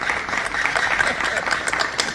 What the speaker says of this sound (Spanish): Y ahora sí vamos a aplaudir un poquito